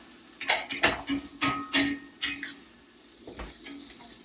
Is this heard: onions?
yes